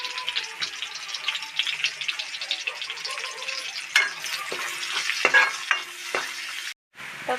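Chopped onion frying in hot oil, a steady close sizzle with scattered scraping stirs and small clatters, briefly cutting out near the end.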